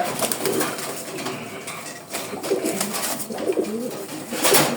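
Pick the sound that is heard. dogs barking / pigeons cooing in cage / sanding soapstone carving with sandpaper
pigeons cooing in cage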